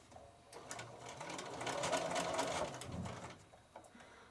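A sewing machine running a medium straight stitch along cushion piping, a rapid even mechanical whir that rises and holds for a couple of seconds before easing off, close and alone.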